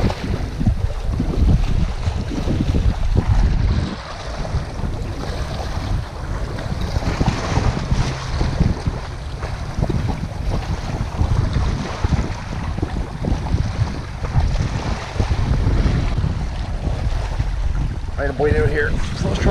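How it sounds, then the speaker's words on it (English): Strong wind on a rocky Newfoundland shore buffets the microphone in a constant, loud rumbling roar, with waves washing faintly underneath throughout. "It's windy on this side."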